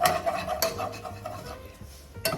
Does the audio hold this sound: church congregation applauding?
no